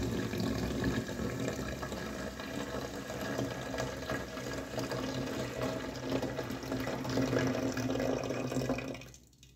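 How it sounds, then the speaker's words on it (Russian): Wild hop liquid pours steadily into a fermentation vessel for home beer brewing, a continuous close splashing gurgle that runs for several seconds, then quickly tapers off at the end. "А дальше мы берем наш прекрасный хмель, хмель-хмелек, дикий, и вливаем в бродильную емкость."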